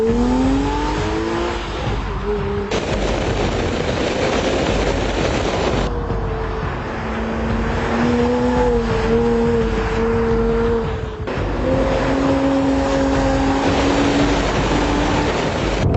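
An entry-level 255-horsepower Porsche Boxster engine accelerates hard through several gears, each pull a rising whine cut by brief shift breaks, loud and close throughout on a steep downhill over a crest.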